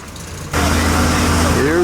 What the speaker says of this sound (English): That's what a Cosworth sounds like.